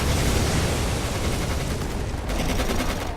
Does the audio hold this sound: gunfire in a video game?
yes